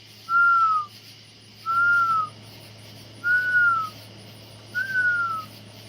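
A person whistles in imitation of a bird call, four clear, evenly spaced, slightly falling whistles over a steady low background hum outdoors in Mississippi.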